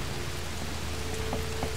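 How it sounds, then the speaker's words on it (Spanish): Steady rain falls in the video game Dead Island Riptide, a dense, continuous hiss of downpour filling the scene at even loudness, with faint patters and drips scattered on top. "empieza a llover"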